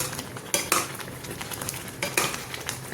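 Rava being stirred in ghee in a metal pan for rava seera, with scraping and clinking spoon strokes, two louder bursts standing out over a soft continuous sizzle.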